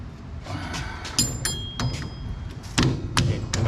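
Rear axle being pulled from a 1969 B-body car: scattered metallic thumps, taps and clinks of the shaft working loose, close and moderately loud, with a few sharper knocks near the end and no talk.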